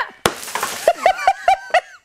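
Tempered glass bursts apart in a single sharp, loud crash into many pieces, followed by a series of short, rhythmic, laugh-like vocal bursts.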